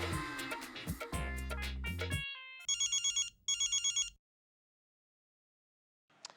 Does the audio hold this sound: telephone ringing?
yes